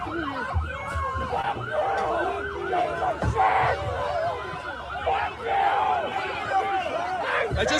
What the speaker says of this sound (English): The crowd's getting big.